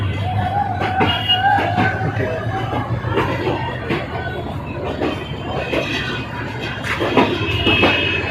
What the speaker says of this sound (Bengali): ট্রেনটা আজকে এক ঘন্টা লেট করে আসলো